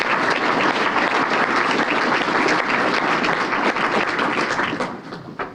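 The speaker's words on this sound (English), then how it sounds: "applause, please." A roomful of people at a membership meeting applauds veterans, dense sustained clapping at steady volume that tapers off in the final half-second.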